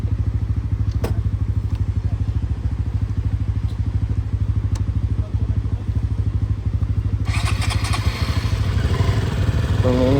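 An adventure motorcycle engine idles close by with a fast, steady thumping putter, then revs up near the end with added rattling noise.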